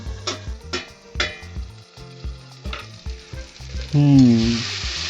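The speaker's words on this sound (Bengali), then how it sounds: "ঢাকা তুলে আবার একটু নাড়াচাড়া করে ভালো করে কষে নেব।" Village-style young goat mutton curry is stirred and fried in a pot, with a rhythmic series of loud scraping spoon strokes over a sizzle, then a short tonal squeak and a louder burst of frying at the end.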